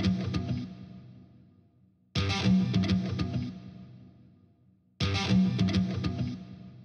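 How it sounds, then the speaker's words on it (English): Three heavy, percussive thumped guitar phrases, each struck hard then decaying for a couple of seconds, played alone with a distorted, effects-laden tone. "The first one I'm going to bring up is his thumping technique."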